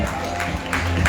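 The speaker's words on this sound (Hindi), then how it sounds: "Please give a big round of applause" An audience at a women's awards ceremony applauds, a dense close wash of clapping that fills the brief moment.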